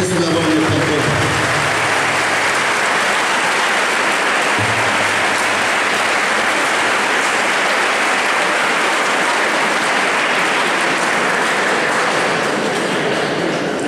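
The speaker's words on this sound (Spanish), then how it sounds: "Quisiera que le dieran un fuerte aplauso a toda la gente que me apoya día con día" Sustained loud applause from a crowd at the opening ceremony of a school sports event in Naolinco, a steady wash of clapping filling the whole stretch, with a brief low murmur of voices early on.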